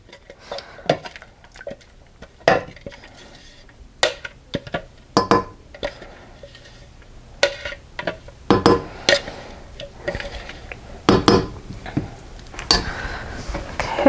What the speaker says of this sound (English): I'm going to empty this into a pot.